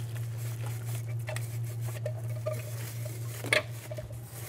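Plastic ventilator circuit pieces are scrubbed with a cloth in a bucket of hot, soapy water, producing soft sloshing, squishing and light clinks over a low, steady hum.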